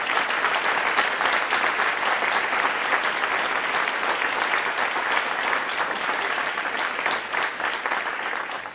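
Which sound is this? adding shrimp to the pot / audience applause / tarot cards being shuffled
audience applause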